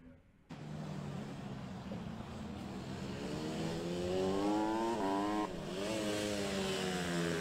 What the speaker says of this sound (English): This, our penultimate race of the day, it's the Honda CRF150 race 2.